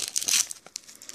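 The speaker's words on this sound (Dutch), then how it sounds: "Zo, deze is goed vastgetaped ook hier, zie ik. Ik ga het even eraf halen." Tape is peeled off a securely taped package of Pokémon trading cards, a close, rough crinkling and tearing rasp in short uneven pulls.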